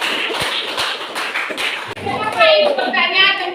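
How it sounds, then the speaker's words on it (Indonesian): Pupils in a classroom clapping together as applause, a dense patter of hand claps with some children's voices mixed in, fairly loud and close. "Bagi tepuk tangan."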